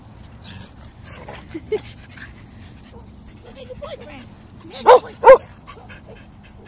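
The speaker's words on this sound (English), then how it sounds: "There's the bark." A Keeshond dog gives two sharp, loud barks close by near the end, after a stretch of people chatting over soft background noise.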